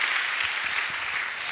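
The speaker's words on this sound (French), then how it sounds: "Donnons une acclamation au Seigneur." Applause from a church congregation, a steady dense wash of clapping heard alone, moderately loud and even throughout.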